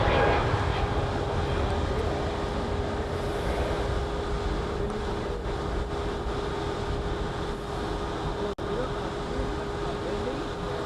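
A Hawaiian Airlines jet departs for San Jose, a loud steady roar of jet engines sustained without pause, with faint broadband rush beneath it.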